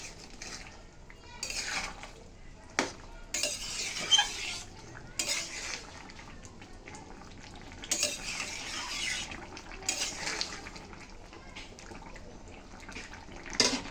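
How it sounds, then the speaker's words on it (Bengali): A spoon stirs ginger and cumin into a simmering vegetarian cooking mixture, making intermittent scraping and clinking bursts against the pot over a low, quiet background. "ভালো করে মিশিয়ে নিচ্ছি"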